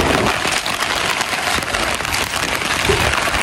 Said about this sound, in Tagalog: Abutan kami ng ulan.